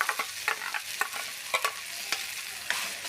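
Ground garlic masala paste is sautéed in a little oil for a chickpea curry, with irregular scraping stirs and soft sizzling close by, and no voices.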